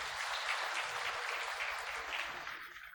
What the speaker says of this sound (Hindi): स्वागत में, सम्मान में तालियों से जोरदार स्वागत करते हैं।